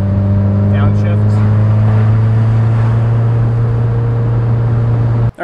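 Inside a 2015-or-later Subaru WRX, the engine holds a steady, loud droning hum with strong low tones, then cuts off abruptly at the very end.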